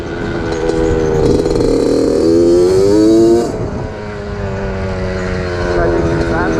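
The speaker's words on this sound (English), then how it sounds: "show these people how to wheelie this thing" Mini dirt bike with a 50 mph-plus engine revving hard for a wheelie on a street, a loud rising engine note that peaks then drops back to a steady idle-like drone, with people talking over it.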